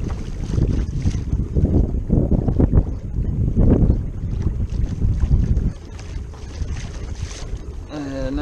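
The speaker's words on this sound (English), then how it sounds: "So these are pretty big waves for being out on a lake." Wind-driven waves slap and splash against a kayak on Prettyboy Reservoir in rapid, uneven bursts, heard close up under gusty wind buffeting the microphone.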